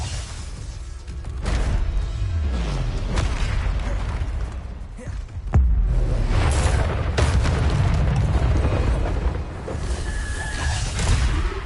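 A Bombarda blast spell in Hogwarts Legacy sounds as layered deep explosions and rumbling eruptions, with a sharp crack near the middle followed by sustained roaring booms and scattered debris, loud and close throughout.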